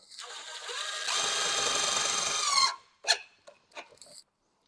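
A power drill driving screws into plastic panels whines for a few seconds, rising in pitch under load, then stops, followed by a few short clicks and bursts.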